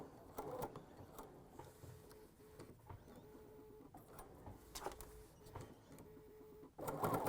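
A sewing machine stitches fabric for a scalloped ruffled pillow, running as a steady, fairly quiet mechanical whir with rhythmic needle ticks that stop and start briefly for a pivot.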